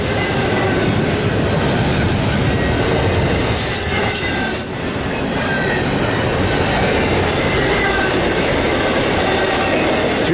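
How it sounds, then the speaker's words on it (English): A long Norfolk Southern freight train, NS 28R with racks, stacks and pig trailers, rolls past close by in a loud continuous rumble with wheel clatter and occasional high squeals. "It is a long train."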